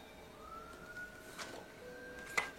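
A faint, distant siren wails outside, its steady tone drifting beneath a quiet background, with a brief clatter near the end.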